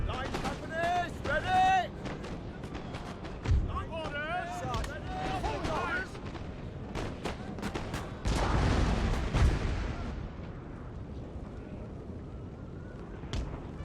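Booming cannon shots firing canister and scattered gunfire ring out amid a busy battle in the video game Napoleon: Total War, with someone talking over the noise.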